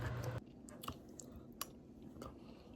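Close, quiet chewing of Trader Joe's gnocchi with tomato sauce, soft squishy bites spaced irregularly after a brief louder clatter at the start.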